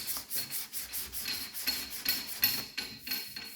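Rhythmic back-and-forth rasping of a sanding block over epoxy primer on the body of a 1963 Cadillac Coupe DeVille, steady close strokes with a bright, gritty scrape repeating about every third of a second.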